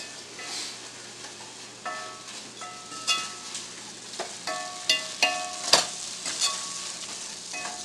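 Ground beef sizzles steadily in a hot pan with cumin and coriander powder while a spoon scrapes and stirs it in repeated clattering strokes, fairly close, with no talk.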